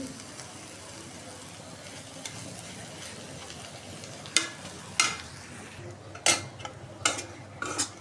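Vegetables frying in oil in a pan, a steady soft sizzle joined near the end by several sharp metallic scrapes and clinks of a spoon stirring against the pan.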